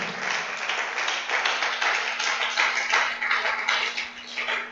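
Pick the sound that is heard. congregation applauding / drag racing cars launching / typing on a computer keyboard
congregation applauding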